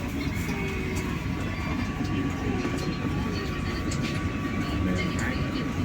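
Steady rumbling drone of the Matarmaja passenger train at Cikarang station in Indonesia, a continuous low-heavy roar with a faint sustained tone, loud and unbroken throughout, with no clear talking.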